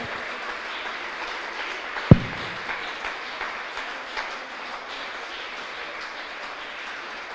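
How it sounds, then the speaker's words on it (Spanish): Audience applause as a steady, moderate wash of clapping that continues throughout, with one sharp thud early on and slight rumble underneath. "Que alguien le dé un aplauso al que murió en la cruz"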